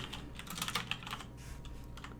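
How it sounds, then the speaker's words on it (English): Quick, light typing on a computer keyboard, a steady patter of close key clicks with no voices. "and then let's type in my name."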